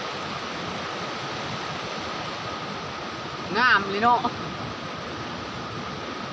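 Water flows steadily beneath rock in a forest cave passage, a constant broad rush, with a person briefly speaking over it midway.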